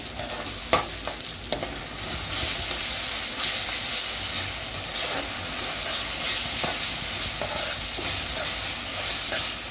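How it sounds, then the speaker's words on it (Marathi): Ginger-garlic paste sautéing with softened onions in hot oil for a masoor biryani, giving a steady, close sizzle and crackle with a few sharp stirring clicks near the start, with no talking. "त्याच्यामध्ये 1 चमचा लसूण अद्रकची पेस्ट घालून घेते। ती सुद्धा चांगली अशी परतून घ्यायची।"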